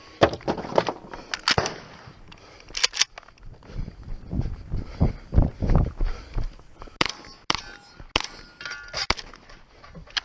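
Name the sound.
shotgun slugs fired at steel targets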